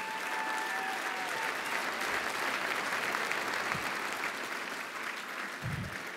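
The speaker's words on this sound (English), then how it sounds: "Big round of applause for Roger Sitt and the Sitt family." Audience applause at a fundraising dinner, steady and sustained throughout at moderate distance, filling the room without any talk over it.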